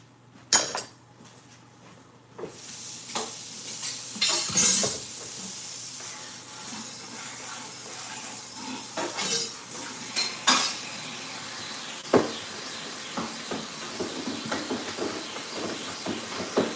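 A utensil scrapes and clinks against a pot of sizzling food on the stove, irregular stirring strokes over a constant soft hiss, with louder knocks scattered throughout.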